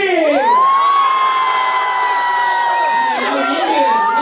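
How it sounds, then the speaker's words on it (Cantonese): At a Hong Kong roadshow for the film Kung Fu Soccer, a large audience cheers to welcome the cast, including Stephen Chow, onto the stage. Loud, sustained high-pitched screams and whoops rise and fall continuously. "我哋就一齊用熱烈掌聲，有請我哋嘅主創成員出場"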